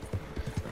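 Horse hooves striking the ground in Red Dead Redemption 2 Online, a short run of three or four evenly spaced low thuds, close and fairly quiet, with no talking.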